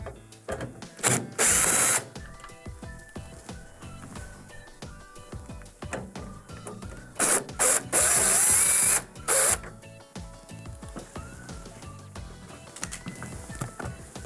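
A cordless driver removes the Phillips screws holding the grill in a Whirlpool microwave, giving a few short high-pitched whirring bursts separated by faint clicks and handling noise, close and loud with no talking.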